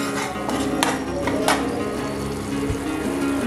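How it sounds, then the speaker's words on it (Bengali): Spice masala cooks in oil for a Punjabi dal makhani made without onion, giving a steady close sizzle and crackle with a few sharp stirring clicks, heard alone without talk. "মশলাটা থেকে যখন এইরকম তেল ছেড়ে যাবে তখন বুঝে নিতে হবে মশলাটা খুব ভালো করে কষানো"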